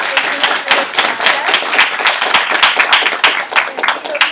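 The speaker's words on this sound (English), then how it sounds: "Let's get a round of applause for our client" Round of applause for a client at the close of a campaign presentation, loud close clapping from a modest group, crisp individual claps in a fast uneven rhythm.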